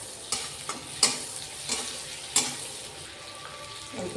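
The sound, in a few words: stirring chopped capsicum and green chillies in butter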